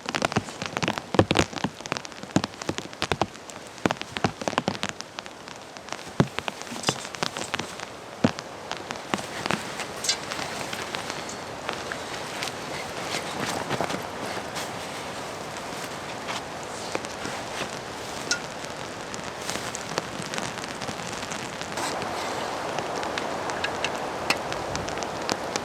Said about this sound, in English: the light to moderate rain has only been going for under an hour